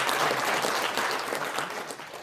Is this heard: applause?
yes